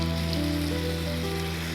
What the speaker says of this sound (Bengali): এখন আমি চিকেনটা এই যে ভাজতে দিলাম